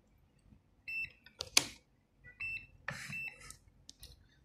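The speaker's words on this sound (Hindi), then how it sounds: "ये बीप दे रहा है।" A multimeter gives short electronic beeps while checking continuity on a fuse from a Canon ImageFORMULA DR-M140 scanner, sounding in several brief bursts separated by quiet gaps, close to the mic.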